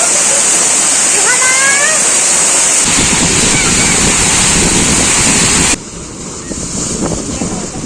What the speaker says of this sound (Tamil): Artificial water falls.